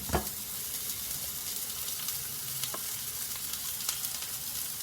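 Food frying steadily in a hot pan in a home kitchen, with a continuous close hiss and crackle, a few sharp pops and faint stirring clinks throughout, no voices.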